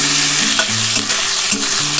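A paste of ground onion, ginger and garlic sizzles and crackles steadily in a hot pan for a dhaba-style chicken curry, with stirring scrapes and no talk, close and fairly loud.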